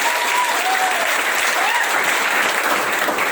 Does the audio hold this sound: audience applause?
yes